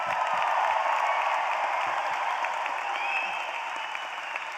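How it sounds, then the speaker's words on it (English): An audience at a spring engineering college commencement applauds the graduates, a dense, steady wash of clapping that fills the hall and eases off slightly toward the end. "Let's start our program by giving our graduates a big round of applause."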